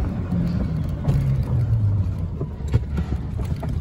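Club Car Precedent four-passenger electric golf cart with a high-speed motor accelerating, a steady low drive hum with wind and road rumble recorded from on board, with no talk.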